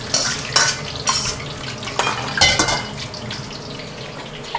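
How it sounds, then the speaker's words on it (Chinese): Mixed vegetables with cauliflower stir-frying in a hot pan, loud sizzling broken by repeated scraping stirs of a utensil against the metal, close and busy. "来炒菜来"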